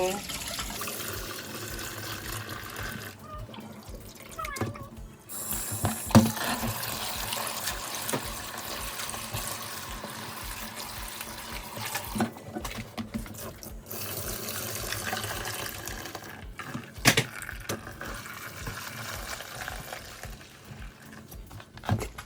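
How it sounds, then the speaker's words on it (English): Tap water runs steadily into a sink while accara ingredients are rinsed through a sifter, with splashing and trickling that swells and fades over about twenty seconds as someone talks over it. "So you're going to be washing it till everything get clean."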